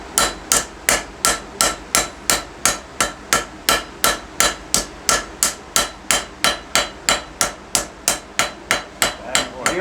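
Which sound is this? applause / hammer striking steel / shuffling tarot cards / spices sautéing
hammer striking steel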